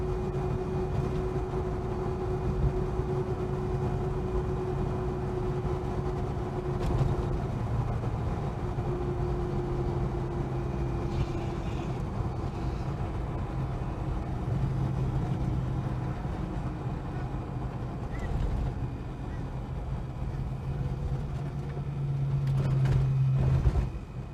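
Holden HK car cruising through town at about 40 mph, a steady low engine drone and road rumble heard from inside the cabin, continuous throughout with no rattles or clunks.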